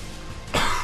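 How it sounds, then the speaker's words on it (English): A single short cough from a person playing a video game, sudden and fairly close, bursting out over a low steady background hum. "Is that the first cough of the episode?"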